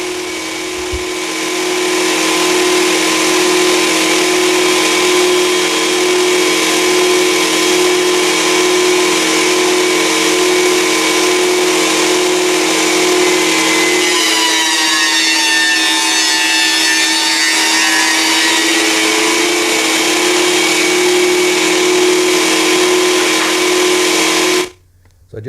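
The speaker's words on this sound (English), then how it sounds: "now I'm running it through the surface planer" A surface planer runs steadily, feeding reclaimed pallet hardwood through its cutters with a loud, sustained high-pitched whine and rumble that shifts in tone midway, then cuts off abruptly at the end.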